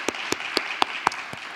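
A church congregation at a Wednesday service claps in a slow, steady rhythm, six crisp, evenly spaced claps standing out above a soft, continuous hum of applause.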